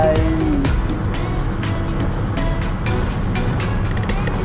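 A Yamaha R15 motorcycle is overtaken on a curving road, heard as loud, continuous wind-buffeted engine and road roar from a moving rider, with repeated bursts of rushing noise and no clear speech.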